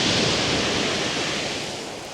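Waves surging and breaking on the shingle of Chesil Beach, a loud, dense rush of surf that fades slightly toward the end, with no voices over it.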